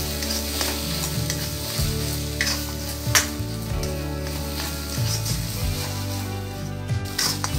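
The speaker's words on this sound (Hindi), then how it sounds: "अच्छे से चलाते हुए 2 मिनट तक भून लेंगे।" Mustard greens (sarson ka saag) stirred and fried in a pan, a steady close sizzle with scraping stir strokes throughout and no talking.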